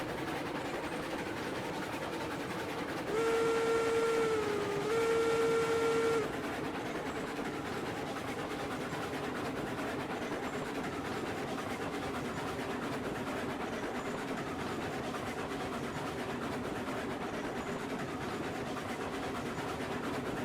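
A Cooke Mogul steam locomotive pulls sixteen cars in the train game Railroads Online, with a steady rumbling chuff and rolling noise throughout and a clear two-part whistle blast early on.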